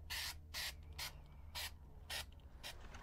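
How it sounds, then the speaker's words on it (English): Spray adhesive hisses from a can in six short, sharp bursts with brief pauses between them, close and fairly quiet, during a makeover project on lacquered pieces. "And so now I can just use spray adhesive."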